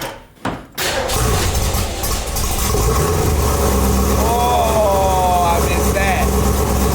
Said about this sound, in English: I just gotta hear the old girl fire up and rumble for me.